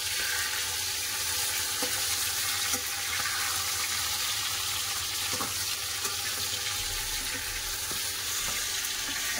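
Fish fries in a pan with a loud, steady, dense sizzle and occasional pops, heard close up and alone with no talking.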